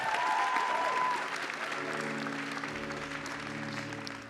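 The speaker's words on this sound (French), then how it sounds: "on peut l'applaudir, c'est permis" Audience applause at an award ceremony honouring a grand laureate: dense, steady clapping from a crowd that fills the room, with a low sustained musical tone rising beneath it midway.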